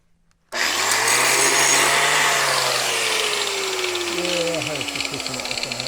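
An angle grinder runs up at 0.5 s and grinds steadily on a bush hog mower deck that needs welding, loud and close with a sustained whine that slowly drops in pitch as it loads.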